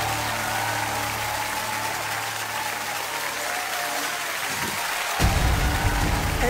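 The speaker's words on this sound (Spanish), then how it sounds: "El aplauso para usted, para ella, para Hernán, para Leticia" A studio audience applauds a dance couple on the Argentine TV dance show Aquí se baila: loud, dense, sustained clapping that continues unbroken and grows fuller and closer toward the end.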